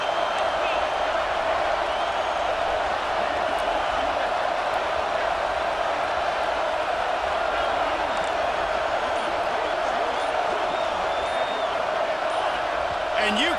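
A dense, steady roar from a stadium crowd in EA Sports College Football 26 fills the whole stretch, with scattered whoops and cheers and a constant wash of noise.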